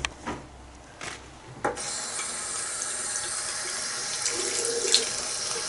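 A device held under a running tap to test whether it is waterproof: a steady, close rush of faucet water splashing over it, starting after a few brief knocks and continuing evenly to the end.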